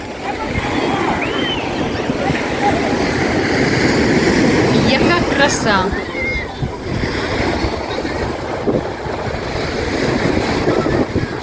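Surf washes continuously near the shore at Golden Sands beach, a broad rushing hiss mixed with wind buffeting the microphone, while someone speaks briefly and a light squeak rises midway.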